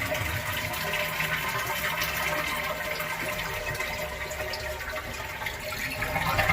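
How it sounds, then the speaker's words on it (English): A household toilet flushes with its water supply shut off at the angle stop, a steady rushing gurgle of draining water that runs the whole time, close and moderately loud. "Now what I'm going to do is I'm going to flush the toilet."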